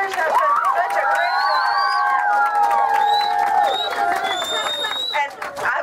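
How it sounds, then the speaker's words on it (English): A crowd gives a round of applause, with cheers, whoops and babbling voices on top of scattered clapping, loud and sustained throughout. "Can we give him a round of applause?"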